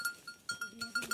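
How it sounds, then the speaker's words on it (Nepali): A goat bleats in short repeated calls while being herded through a forest, the thin cries coming close together over about a second. "ए कस्तो यार बाख्राले हामीलाई दुःख दिइरहेछ"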